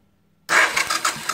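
A car engine cranks on the starter during a spark plug gap test with a 7.4 mm gap. After a short silence a close, loud burst of rhythmic cranking pulses sets in and keeps going to the end.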